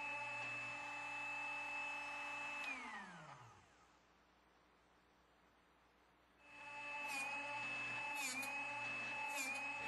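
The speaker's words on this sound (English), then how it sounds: "Now, sharpen the small bit, but use very light pressure and fewer white line to white line rotations." A Drill Doctor 350X runs with a steady motor whine, then spins down into near silence before starting up again, and faint grinding touches are heard as a small drill bit briefly meets the sharpening wheel.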